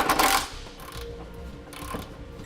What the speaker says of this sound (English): Now we'll snug these down and torque those as well.